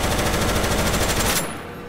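Rapid automatic gunfire from a video game fighting Siren Head rattles in a dense, loud, continuous burst for over a second, then cuts off abruptly into a faint fading tail.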